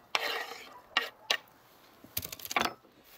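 Chopped carrots tipped from a board into a dish outdoors in winter, a few bursts of rattling, clattering pieces hitting the container, close and moderately loud with quiet gaps between, no talking.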